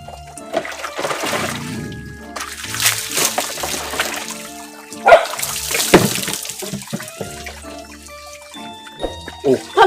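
Water poured over someone's head during a shampoo prank, splashing and trickling in uneven bursts, with voices and laughter mixed in around the pouring.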